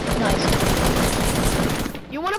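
Continuous rapid assault rifle fire in a video game, a dense loud burst lasting about two seconds before cutting off, with brief chirpy game sounds at the end.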